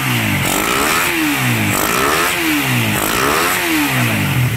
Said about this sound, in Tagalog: malamig na malamig ang makina. Wala na yung kalampag, yung kalansing.